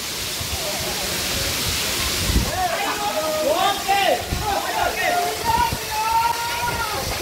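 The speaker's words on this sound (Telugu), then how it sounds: "మనం చూసారు కదా వాటర్ ఏ విధంగా పడుతుందో" A waterfall pours down into a pond with a steady, loud rushing roar, while a voice talks over the water partway through.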